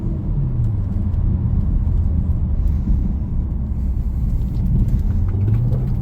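A 2000 Audi A6 4.2 cruising with a steady, loud low engine and road rumble throughout, a deep droning hum with faint rattles, with no talking.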